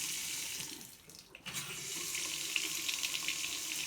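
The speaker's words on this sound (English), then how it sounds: "You go ahead and leave the water running." A kitchen faucet runs steadily into the sink after being newly installed, a constant hiss and splash that briefly dips near the middle before resuming at full flow.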